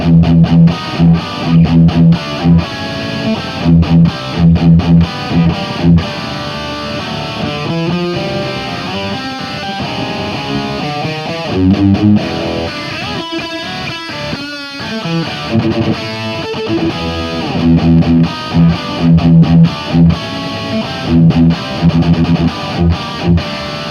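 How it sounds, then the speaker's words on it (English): Distorted electric guitar playing a section alone, with rhythmic chugging chords and faster melodic runs in the middle, loud and close with a chorus-like shimmer. "here's the entire section, just on the guitar"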